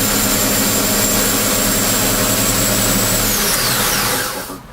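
A belt grinder runs its belt over the platen at high speed, a loud, steady, dense whir with a high whine that holds, then starts to fade toward the end.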